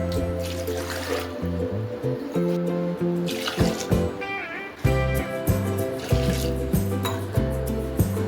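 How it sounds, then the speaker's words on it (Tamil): Water is poured over potatoes in a pressure cooker, splashing and gurgling in uneven bursts with a few metallic clunks, close up. "இந்த பொட்டேட்டோஸ் எல்லாமே நல்லா முழுகிற அளவுக்கு தண்ணி சேர்த்துக்கலாம்"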